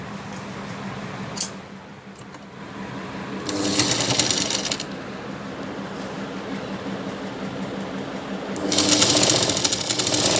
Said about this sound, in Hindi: अब हम यहाँ पर इस तरीके से पहले 1 इंच ऐसे मोड़ते हुए पूरे घेर में सिलाई लगाएंगे।